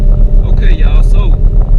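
A turbocharged Camaro with a TH400 automatic on a reverse manual valve body rumbles along in second gear, with a loud, steady low engine drone and wind buffeting. Someone talks over it.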